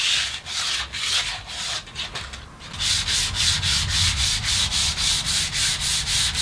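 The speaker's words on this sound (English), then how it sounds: "We want to sand back and forth on the edge." Sandpaper scrubs back and forth along the edge of an oak slab, close and steady, in regular rasping strokes that quicken into an even rhythm after a brief pause, with no talk.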